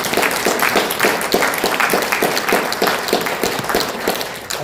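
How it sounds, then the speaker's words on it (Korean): A crowd at an anniversary ceremony applauding steadily, dense overlapping claps filling the whole stretch at an even, moderate loudness. "한번 큰 박수로 한번 칭찬 좀"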